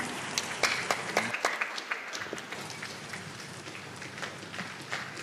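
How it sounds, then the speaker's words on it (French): Audience applause at a church Easter faith convention, a steady wash of clapping from a large crowd, moderately distant, with sharper claps standing out now and then and no talk over it. "Give the Lord the biggest hand."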